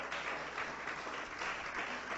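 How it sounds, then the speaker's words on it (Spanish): Church congregation clapping together in a sustained, dense round of applause, steady and fairly loud throughout without a break. "Dele un fuerte aplauso al Señor"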